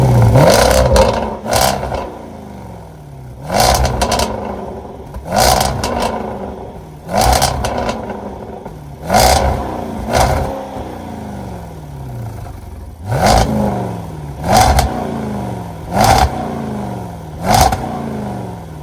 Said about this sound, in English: I'll get y'all some quick exhaust clips now.